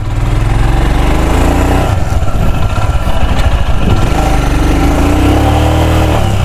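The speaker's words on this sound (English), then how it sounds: "I'm literally doing off-roading on the sand right now with the Himalayan" Royal Enfield Himalayan motorcycle engine revving hard and continuously while struggling through sand off-road, loud and close, with the throttle rising and falling.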